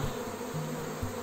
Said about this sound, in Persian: ببینین که کل آسمون شده زنبور.